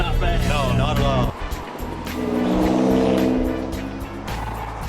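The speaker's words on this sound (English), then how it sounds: "normally I don't like the sound of an V6, but when you put two turbos on the side of it" The twin-turbo V6 of a 1955 Ford F100 restomod revs and rises in pitch, then eases and climbs again, loud and close, with a voice talking over parts of it.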